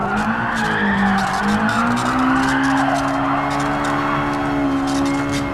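Mazda MX-5 tires squealing in a long continuous skid in the GT Sport racing game, loud and close over the steady engine drone, the squeal pitch wavering as the car slides.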